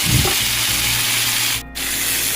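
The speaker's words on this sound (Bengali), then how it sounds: "তো এখানে আমি করে নিচ্ছি আলু ভাজা" Potatoes frying in a pan, a loud steady hiss and sizzle throughout with a brief dip near the end, close up.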